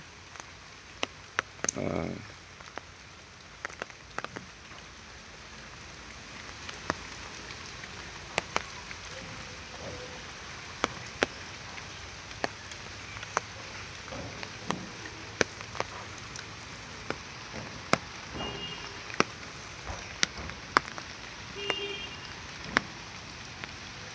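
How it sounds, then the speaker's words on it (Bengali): Heavy rain pours down over a low-lying flooding area, a steady unbroken hiss with scattered sharp drops and drips landing nearby for the full length. "পানি বেড়ে যাবে মনে হইতেছে, অনেক বৃষ্টি হইতেছে, বৃষ্টি বন্ধ হইতেছে না"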